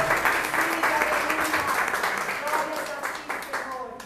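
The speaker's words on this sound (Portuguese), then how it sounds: "Aplausos ao Senhor, amém?" A church congregation applauds during a worship service, sustained clapping with voices and cheers mixed throughout, tapering slightly toward the end.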